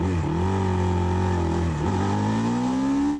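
A Ducati Sport Classic 1000S motorcycle in a cafe racer cup race roars steadily nearby, its engine note dipping briefly mid-pass before climbing again, then cutting off abruptly at the end.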